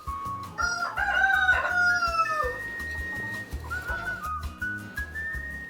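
Chickens on a poultry farm with soft earthen flooring, a rooster crowing loudly and repeatedly with long drawn-out calls, over a steady bed of clucking and bird chatter nearby.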